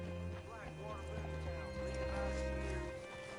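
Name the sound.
horse in video game Red Dead Redemption 2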